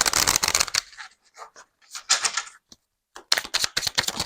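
A tarot card is drawn from the deck: quick bursts of crisp card flicking and riffling, close and fairly loud, broken up by short pauses.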